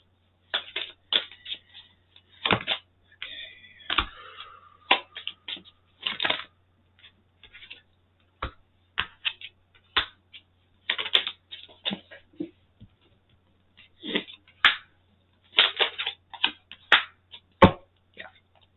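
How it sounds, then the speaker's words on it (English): Tarot cards being shuffled and pulled from the deck, a run of crisp, close riffling and snapping card sounds in uneven bursts with short quiet gaps between. "Let's pull some clarifying cards or confirmation cards here."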